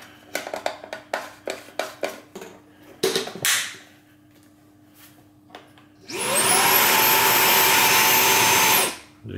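A JIMMY JV85Pro cordless vacuum cleaner, preceded by several sharp handling clicks and clacks, then switched on into a loud, steady whine with a high tone that runs about three seconds before cutting off.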